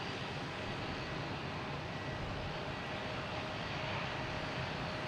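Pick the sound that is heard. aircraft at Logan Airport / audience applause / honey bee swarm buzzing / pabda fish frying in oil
aircraft at Logan Airport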